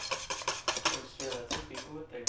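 Utensil stirring and clinking against a bowl while paleo mayonnaise is whisked by hand without a blender, heard as a rapid series of close, rhythmic scraping taps.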